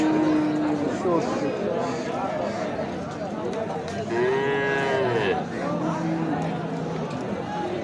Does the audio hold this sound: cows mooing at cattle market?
yes